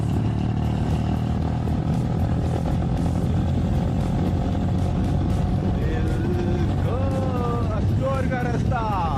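A touring motorcycle runs steadily on a mountain road between Babusar Top and Skardu, a continuous close engine and wind roar that persists throughout, with a voice speaking over it near the end.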